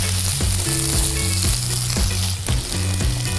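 Corn kernels frying crisp in butter in a pan, a loud continuous sizzle and crackle right up close, with steady rhythmic music underneath and no talk.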